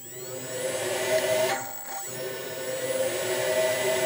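A homemade turbo jet engine driven by an electric ducted fan runs at quarter throttle, giving a steady whining whoosh with a tonal hum and a brief sweeping dip midway, close and unbroken; no talk.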